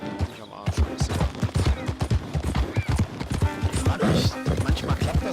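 Galloping horse hooves in Red Dead Redemption 2, a steady rapid clip-clop rhythm close up and loud, with scattered gunfire-like bursts and game ambience around it.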